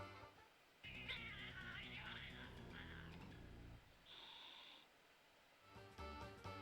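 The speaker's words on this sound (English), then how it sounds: "Yep, bunch of angry cats when you get 13." Angry cartoon cats meow and caterwaul in the video game Fortune Street, a layered burst of high, wavering yowls over a game music bed, then a sustained synthetic tone and a renewed busy stretch.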